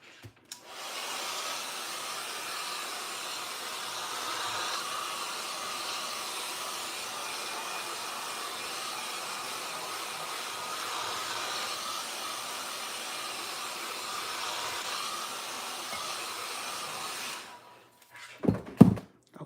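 A handheld dryer blows air over mixed media collage paper, a steady close whooshing hiss that starts after a moment, runs about sixteen seconds, then switches off, followed by a couple of light knocks.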